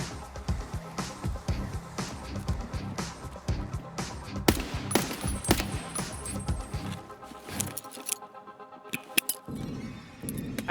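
Gunfire in a video game set around a depot and old gas station, with a rapid irregular stream of sharp shots and clinking impacts, fairly loud and sustained before thinning out toward the end.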